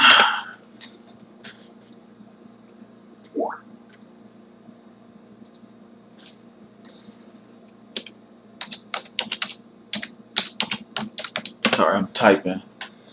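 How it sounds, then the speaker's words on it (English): Rapid bursts of computer keyboard typing clatter close by, starting sparse and growing into dense runs of clicks toward the end, with a brief murmur of voice and a cough-like sound early on. "Sorry, I'm typing."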